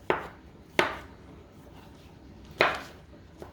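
A knife chops mushrooms on a cutting board in a home kitchen, three sharp, close strikes spaced irregularly with quiet pauses between them.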